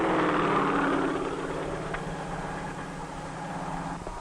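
A 1953 crop-dusting helicopter hovers low over plants, its whirling rotor and engine making a steady, loud drone with a harmonic hum that eases slightly after the first second and holds continuously.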